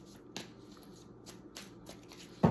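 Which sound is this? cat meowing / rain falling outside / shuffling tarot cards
shuffling tarot cards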